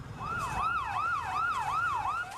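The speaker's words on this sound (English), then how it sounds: "Ambulances hurtled through the ruined streets" An ambulance siren wails through the ruined streets of Beirut after the explosion, a smooth rising-and-falling tone cycling steadily several times at moderate distance over faint background noise.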